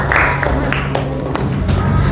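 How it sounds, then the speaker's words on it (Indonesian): A class of schoolchildren in an Indonesian classroom claps for a classmate, a steady patter of many hands applauding up close with no pauses. "Kita kasih tepuk tangan untuk Ananda Safia."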